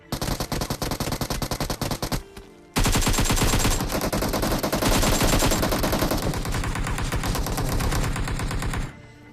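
Rapid automatic gunfire crackles loudly in a shooter video game, with bursts of quick rattling shots, a brief pause, then a long sustained volley of continuous fire that cuts off abruptly.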